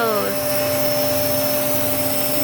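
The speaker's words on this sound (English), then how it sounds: "Always big blue vacuum hose." A household vacuum cleaner with a big blue hose runs continuously, a loud, steady whine and roar filling the whole moment without pause, close by.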